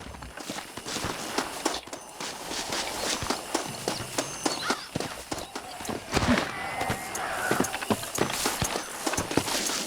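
Horse hooves in the Red Dead Redemption video game, a string of rapid clip-clop beats at a brisk pace with rustling and ambient game sounds, fairly close and steady over about ten seconds.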